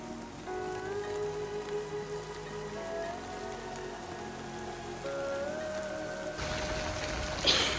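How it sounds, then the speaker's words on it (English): Heavy winter rain falling in Kyoto near the Heian Shrine, a steady, dense hiss that carries through the whole stretch and grows a bit louder near the end, with faint tonal sounds threaded underneath. "It's so rainy!"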